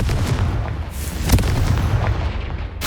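A fiery blast from the Confringo spell in Hogwarts Legacy booms out loud, with crackling rumble and a sharp burst near the middle and another at the end.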